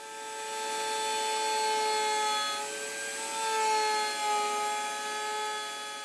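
A router table trims a thin edge off plywood band saw wheel blanks, giving a continuous, moderately loud tonal whine with a steady hum throughout and no voices.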